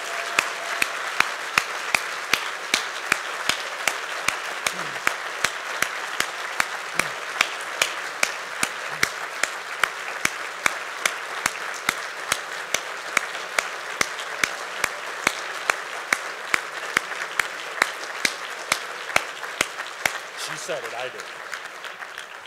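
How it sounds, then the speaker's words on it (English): Audience at a chamber of commerce breakfast gives a sustained round of applause for a retiring honoree, dense steady clapping running about twenty seconds before tapering off at the end. "Let's give her a big round of applause."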